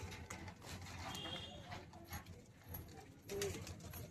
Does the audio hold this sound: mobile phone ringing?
no